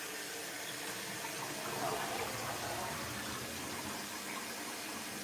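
A push-button toilet flushes in a traditional Japanese house, a continuous rushing gush of water up close that swells briefly and then settles into steady filling.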